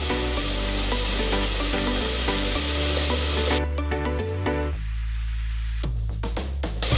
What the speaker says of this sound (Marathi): बघा कोथिंबीर पण छानपैकी या मसाल्यामध्ये म्हणजे कांदा टॅमॅटो मध्ये फ्राय झालेली आहे